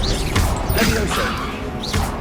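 Levioso levitation spell effect from Hogwarts Legacy, a shimmering magical whoosh with creaking, mechanical textures and bright bursts recurring through a short, busy stretch of game audio.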